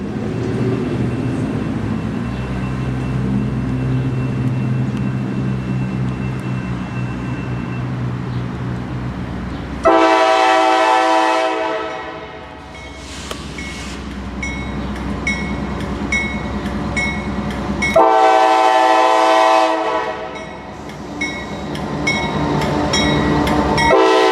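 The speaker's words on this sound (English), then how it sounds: "CSX Autorack train M252 takes the connection to go east." A CSX autorack freight train rumbles past nearby with steady clattering of cars, while a loud multi-tone horn blares in two long blasts.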